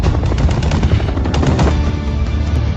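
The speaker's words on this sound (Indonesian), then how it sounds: "Helikopter kembali muncul dan menembaki mereka." Sustained rapid machine-gun fire from a helicopter in an action film, loud and dense bursts running continuously with rotor-like rumble underneath and no talk.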